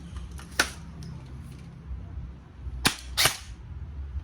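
A Double Bell M4 airsoft rifle with a short 7.5-inch front set fires through a chronograph: a lone sharp pop near the start, then a quick close burst of two or three snappy shots, with low background hum.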